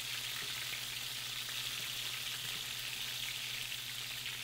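Chicken legs fry on a stovetop as grease hisses in a continuous steady sizzle with faint pops, fairly quiet and without talk.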